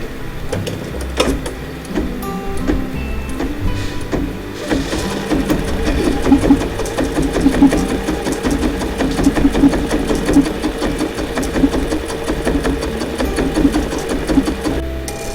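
Sewing machine doing free-motion stippling through batik fabric layered with cutaway stabilizer, running in a steady continuous mechanical whir with rapid needle rhythm, close and loud throughout.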